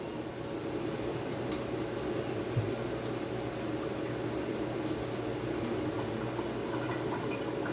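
Water from cooked instant rice is poured off in a soft, steady trickle, faint and close, with light drips and no talking.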